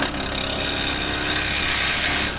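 Traditional woodturning gouge cutting a spinning workpiece on a lathe, a steady, continuous hiss and rasp of the tool shaving wood, close and evenly loud for the whole stretch.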